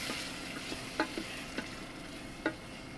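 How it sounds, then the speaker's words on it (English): Drained canned black beans sizzle in a hot pan with onions and spices. A steady crackling fry runs underneath a few sharp clicks of a utensil stirring against the pan, and no voices are heard. "add it in. You can hear that sizzle again."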